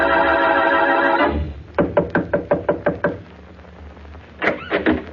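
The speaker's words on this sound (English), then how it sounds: "as he knocks on Mary Wesley's door" Knocking on a city apartment door: a quick run of about six to seven sharp raps, a pause, then three more, following a steady tone that cuts off.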